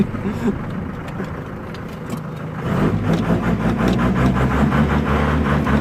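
A Ford Transit van engine idles close by, its exhaust rumbling louder partway through and settling into a steady low chug.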